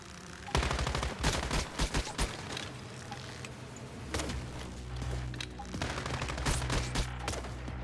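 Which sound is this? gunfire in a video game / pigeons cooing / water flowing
gunfire in a video game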